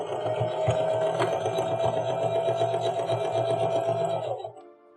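A sewing machine stitches a zipper pouch in one steady, close whirring run that slows and stops near the end.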